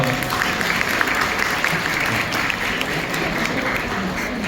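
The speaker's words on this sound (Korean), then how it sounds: "박수 부탁드립니다" Wedding guests applaud in a thick, sustained round of clapping, loud and steady from start to finish, with faint crowd murmur beneath.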